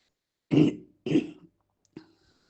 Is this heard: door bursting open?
no